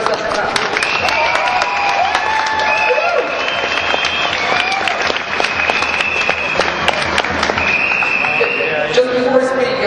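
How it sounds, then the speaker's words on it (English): Crowd at a World Day for Animals in Laboratories rally in London claps and cheers in a steady, loud outdoor roar, with voices calling out over the clapping throughout. "Put your hands together and give yourself a clap."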